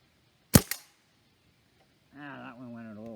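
A Stoeger A30 air rifle fires a Gamo Match pellet, one sharp close crack with a quick echoing tail, followed after a pause by someone speaking.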